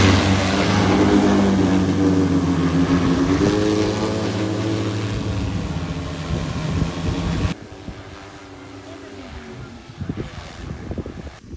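An agricultural spraying drone on a Pakistani farm starts its mission with a loud motor whir whose pitch rises and shifts, then drops to a quieter hum mixed with wind buffeting and gusty rumbles.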